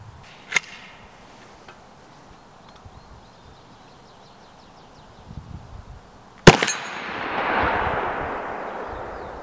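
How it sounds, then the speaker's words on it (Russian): Two sharp, loud gunshots at a steel gong target several seconds apart, the second followed by a lingering hiss of noise, over quiet background. "Ух, как пушки-то глушат"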